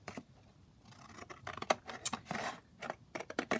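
Scissors snip through decoupage napkin laid on plain white cardstock in a run of quick, close, crisp cuts with short pauses and faint paper rustle.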